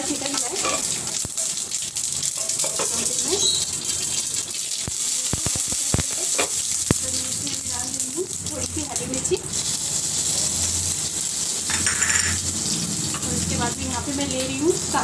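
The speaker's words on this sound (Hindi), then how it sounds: "अभी मैं इसमें डाल रही हूँ राई और जीरा और कड़ी का पत्ता" Mustard seeds, cumin and curry leaves sizzle and crackle in hot oil in a home kitchen while masala dosa is being made, a loud continuous fry with sharp pops scattered through it.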